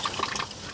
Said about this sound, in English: You turn on the water,